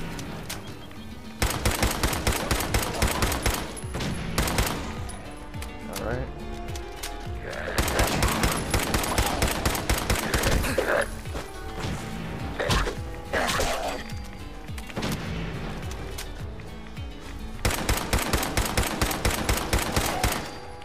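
Automatic gunfire in Fallout 4 at Boston Airport: rapid bursts of loud shots stutter in long rattling volleys, separated by short pauses with scattered single pops and clanks.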